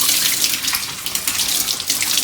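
A baby bottle is rinsed under a running kitchen tap, a steady close stream of water splashing continuously for the whole stretch with no voices.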